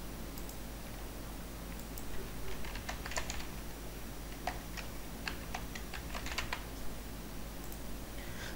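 A username and password being typed on a computer keyboard, soft irregular key taps in short bursts with a steady quiet hum in the background.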